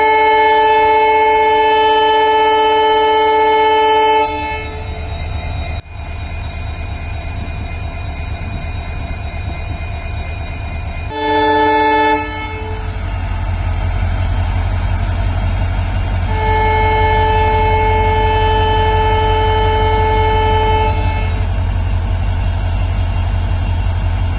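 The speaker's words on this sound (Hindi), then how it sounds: "तो अब ये गाड़ी तैयार है चलने के लिए" An Indian passenger train departs behind a replacement locomotive that was swapped in after an engine failure, with a loud, close horn sounding in three long blasts over a steady rumbling engine drone.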